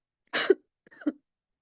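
A single short cough followed by a brief throat clearing, close and fairly loud, then silence.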